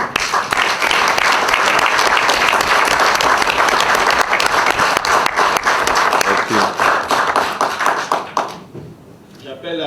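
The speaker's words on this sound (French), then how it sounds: "Vous appelez le nom de chacun, il se lève pour qu'on l'applaudisse." A crowd applauds gold medal winners at an audience with Niger's president, loud dense clapping continuing for about eight seconds before tapering off sharply.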